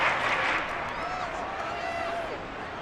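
Crowd cheering and applause swell in a large American football stadium in the Madden 23 video game, with a commentator talking over the noise and a whistle-like tone drifting in the background.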